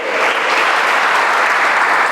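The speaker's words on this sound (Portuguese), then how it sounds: "Você podia dar um aplauso a ele" A church congregation breaks into steady, dense applause during a sermon, loud and close, with no speech over it.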